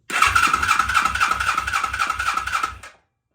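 A Kawasaki KZ305 motorcycle is cranked by its starter, giving a steady rhythmic churning pulse of about a dozen compression beats over a high whine, close and loud. The engine never catches, and the cranking cuts off abruptly.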